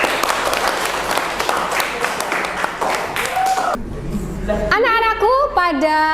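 Classroom of school pupils clapping together for several seconds, a dense burst of hand claps that cuts off abruptly, followed by a teacher's voice speaking.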